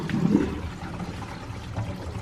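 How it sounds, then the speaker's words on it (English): Water drains from a sink through a newly replaced garbage disposal once the plug is pulled, a steady gurgling rush that swells early then settles into a continuous moderate flow with no talking. "Now we want to pull the plug and see if the water flows where it's supposed to."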